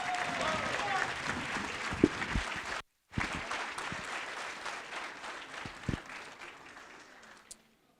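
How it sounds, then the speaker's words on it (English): An audience at a National Signing Day 2020 ceremony for high school seniors claps steadily. The sustained applause has a short break near the middle and fades out at the end. "how about a nice round of applause for these hardworking seniors?"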